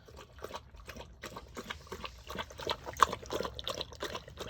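A pregnant dog laps water, producing quick, rhythmic wet laps close by. The sound is quiet, steady and without talk.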